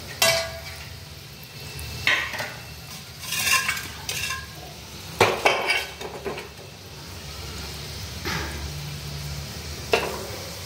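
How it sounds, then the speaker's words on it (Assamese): Gulab jamun balls made with red potatoes fry in hot oil with a soft, steady bubbling sizzle, broken by several sharp clinks and scrapes of a spoon against the pan and no speech. "অকণমান ৰঙচুৱাকৈ ভাজিব লাগিব"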